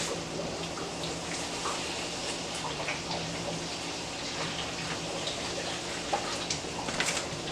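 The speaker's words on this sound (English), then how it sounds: "I'm just gonna add more water." Water pours and splashes steadily into a cooking pot of okra soup for several seconds, a continuous close pouring sound with faint clinks, and no talking.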